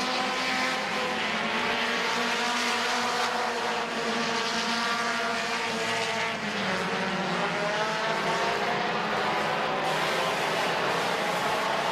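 Race cars racing at Midvale Speedway during the fall classic, a constant loud roar of several engines with rising and falling pitch as cars pass, no pause throughout.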